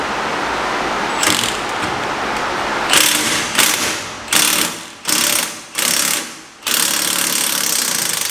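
Impact wrench fitted with an impact extension, working on an Ecotec car's suspension: four or five sharp, loud hammering bursts about a second apart, each fading quickly, over a steady shop background.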